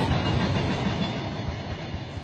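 A Carajás freight train rolls steadily along the rails with a loud, continuous rumble and faint clatter of wagons, close by and without voices.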